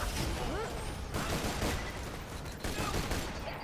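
Bursts of gunfire from a Borderlands 2 shooter game, dense and continuous across the few seconds, layered with game effects and a faint voice in the background.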